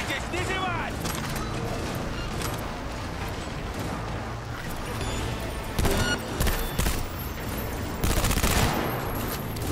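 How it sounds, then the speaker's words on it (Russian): A rapid-fire gun shoots in the video game Cyberpunk 2077 in dense bursts of gunfire over a busy, loud combat mix, with voices talking throughout. "Хорошую пушку я нашел, очень скорострельная, кстати"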